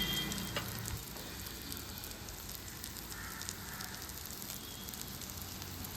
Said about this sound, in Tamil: இப்போ இதை நல்லா ஃப்ரை பண்ணணும்.